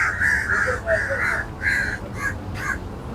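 A flock of crows caws overhead near the river bridge in Muar, Johor, Malaysia, with a series of loud, harsh calls in uneven bursts and no talking.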